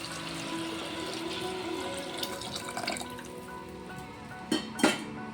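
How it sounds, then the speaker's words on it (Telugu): Water poured into rice in a cooker while making veg pulao, a steady splashing trickle throughout, ending with two sharper sloshes or clinks. "ఇప్పుడు ఇందులో వాటర్ యాడ్ చేసుకుంటున్నాను."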